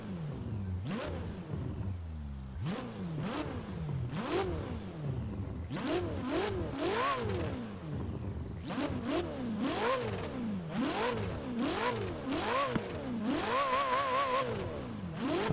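A Porsche Macan engine in the Forza Horizon 4 racing game revs repeatedly, rising and dropping in pitch through quick gear changes, loud and continuous.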